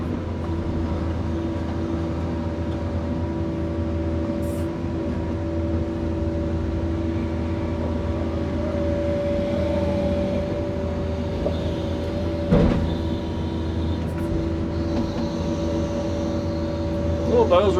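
A small, worn tracked bulldozer with tracks in bad shape works on a dam job, its engine a steady, loud drone that continues throughout with occasional clanks.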